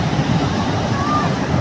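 Sea waves washing in on Digha beach, a continuous churning wash of surf close by, with a voice talking over it.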